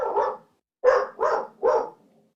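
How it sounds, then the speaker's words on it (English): A dog barks four times: one bark, a short pause, then three quick barks in a row. The barks are loud and near, with silence between them. "that was brought to us by Shandy, the dog barker"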